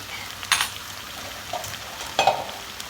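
Buttered chicken breast frying in a pan with tomatoes and broccoli, soft sizzling under a few sharp clinks and scrapes of a utensil against the pan as the pieces are turned.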